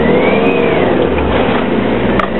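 A Ford Transit Mk 6 van with a turbocharged diesel engine accelerates on a drive, its engine droning loud and close with a rising whine throughout the pull.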